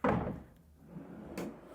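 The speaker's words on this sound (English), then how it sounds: "So inside the closet, they also have drawers" A built-in wardrobe drawer inside a closet in a newly fitted-out house slides and bumps shut, a close, dull wooden knock followed by a softer second movement, with no voices.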